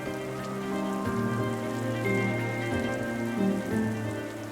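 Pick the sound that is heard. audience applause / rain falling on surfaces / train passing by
rain falling on surfaces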